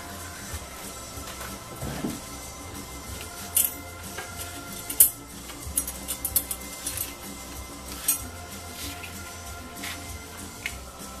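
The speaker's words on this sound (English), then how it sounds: "Let's cut this open and get a look." Scissors cut open the packaging of a UAir R10 quadcopter, with repeated close, crisp snips and crinkling of packing material over several seconds, quiet and without talking.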